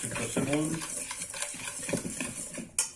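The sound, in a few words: stirring icing sugar, ground almond and flour together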